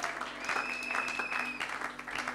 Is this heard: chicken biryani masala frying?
no